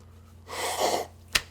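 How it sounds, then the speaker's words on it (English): A short, forceful nasal blow of breath through the nose, followed by a brief sharp sniff or snort at the end. "I'm sorry, I had to blow my nose."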